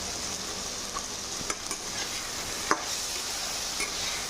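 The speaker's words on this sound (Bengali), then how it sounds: "কুঁদরিটাকে ভালো করে ঢাকা দিয়ে লাল লাল করে ভেজে নেব" Ivy gourd (kundri) with potato frying in a pan with spices, a steady close sizzle broken by several sharp clicks and scrapes of a spatula stirring against the pan.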